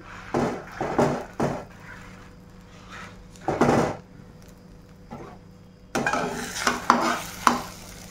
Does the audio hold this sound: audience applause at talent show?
no